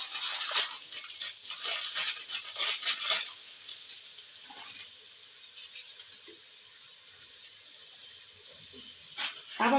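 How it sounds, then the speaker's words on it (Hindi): Noodles being stirred into boiling water in a pan, a few scraping and clattering bursts up close at the start and again at the very end, with quieter bubbling and faint knocks between. "अब हम इसको अच्छे से पानी के अंदर मिक्स कर लेते हैं।"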